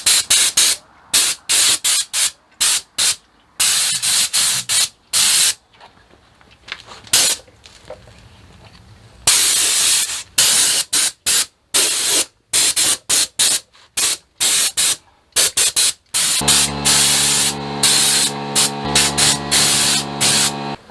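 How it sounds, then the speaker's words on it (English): Repeated hissing bursts of ACF50 corrosion inhibitor sprayed around the engine, electronics and wheels of a Royal Enfield Interceptor 650, short aerosol blasts in an irregular rhythm, close and loud, with a steady motor-like hum entering near the end. "just spray it around the engine so it just creeps into all your nooks and crannies"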